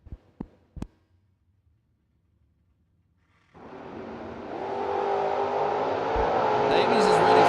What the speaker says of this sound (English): Gallatin, Tennessee in the Oldsmobile, 649 in the right for Davies.